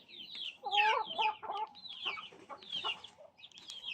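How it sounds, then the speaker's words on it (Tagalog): A pure Black Casolop rooster in a backyard free-range flock gives a run of close, fairly soft clucks and squawking calls in short bursts, with no talk. "So ito yung pure Black Casolop namin na roster."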